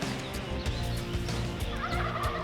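Rapid, rattling gobbles of a wild turkey repeat in a dense, continuous stream, close and fairly loud, with no voices present.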